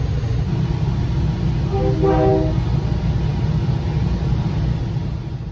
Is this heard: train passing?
yes